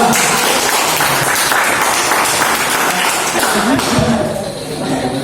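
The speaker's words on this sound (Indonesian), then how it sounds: "Tepuk tangan dulu untuk kelompok 2" A classroom group claps for the second team in a lively burst of applause, loud and continuous before thinning out near the end, with voices mixed in.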